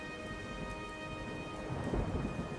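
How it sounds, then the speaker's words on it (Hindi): Stormy rain pours steadily on surfaces while low rumbling thunder swells toward the end, with no voices. "बाहर की तूफानी बारिश से बचने के लिए"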